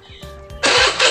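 A Honda Beat scooter-style motorcycle starts up close by: a short starter whir followed by the engine catching into a loud, steady roar within a second.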